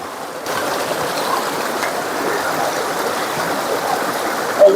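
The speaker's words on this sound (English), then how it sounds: "Wash off the coconut nice." A coconut being washed in river water by a Jamaican riverside, heard as a steady rushing, splashing water wash, close and fairly loud, with a brief louder splash at the very end.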